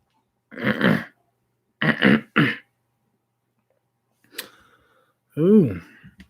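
Throat clearing and coughing in a quiet room late at night, a few short harsh bursts followed later by a brief voiced grunt, close and fairly loud with silence between.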